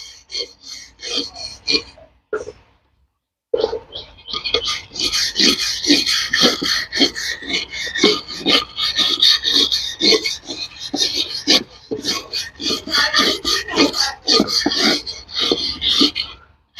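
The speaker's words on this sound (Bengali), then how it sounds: "আমি এইটাকে এরম করে ঘষে ঘষে এই ব্রাশ দিয়ে এরম করে ঘষে ঘষে" A brush scrubs moss and grime off a rose plant's flower pot in quick, rhythmic, close rasping strokes, with a short pause early on and brief gaps between bursts.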